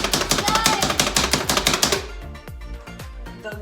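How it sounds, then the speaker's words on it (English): Hard, rapid knife chopping of fresh turmeric and ginger on a cutting board, dense, loud and close for about two seconds, then slower, separate thuds with a short pause between each. "Go ahead, give it a hard chop."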